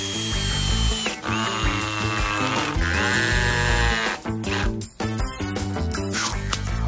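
A power drill drives tan exterior-rated deck screws into a wooden planter box board, with loud close whirring bursts that rise and stop in several runs, punctuated by ratcheting clicks, and no voices.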